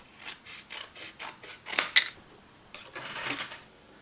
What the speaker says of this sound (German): Ich baue einen Papptrichter